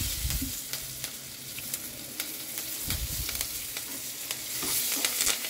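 Curry leaves hit hot oil with salted, softened onions in a home kitchen pan, loud crackling sizzle with sharp spits and stirring scrapes, close and continuous with no talking.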